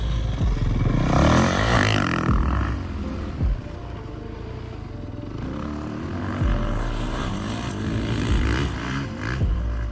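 A dirt bike lugs through sand in a high gear on a motocross track on Maui, a loud, close engine drone with low revs that swells and eases as the rider moves, with no talking.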